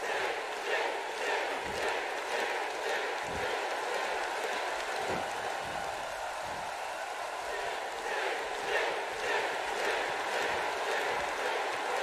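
Wrestling crowd roaring and cheering in support of Sting during his match against Terry Funk, a steady dense arena din with rhythmic chant-like pulses, moderately loud with no clear voice on top.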